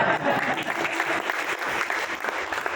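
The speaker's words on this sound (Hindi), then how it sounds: "जोरदार ताली बजाओ।" Enthusiastic audience applause at an Amway event in a hall in Kalyan, dense clapping from a crowd sustained for a few seconds.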